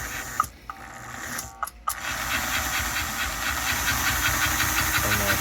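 A vintage 1954 American Flyer Northern model steam locomotive running with smoke gives a steady close hiss with faint mechanical ticking, broken by a few brief dropouts and light clicks early on.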